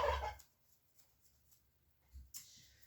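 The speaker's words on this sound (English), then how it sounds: "Those are my turkeys, Sisu and Rangu, and they are not happy." Two unhappy pet turkeys call out in short bursts, one at the start and another near the end, with quiet stretches between the calls.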